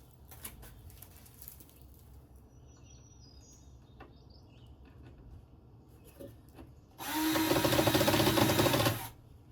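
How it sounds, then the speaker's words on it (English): A power drill drives screws into a Veikous raised garden bed, one loud whirring burst of roughly two seconds near the end after quiet background with faint birdsong. "I'm going to put in these 3 screws on the opposite side"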